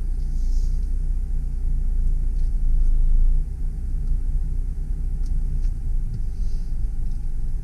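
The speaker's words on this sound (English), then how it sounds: "So now we're ready for our test drive. Start off in reverse." A 2003 Mercedes C230 Kompressor with a supercharged 2.3 L engine reverses, heard from inside as a steady low rumble of engine and road with no talking.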